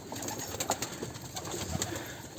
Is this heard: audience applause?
no